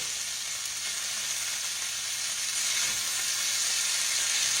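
Chicken drumsticks fry crisp in a pan, a steady close bright sizzle of hot oil that continues without pause, no voices.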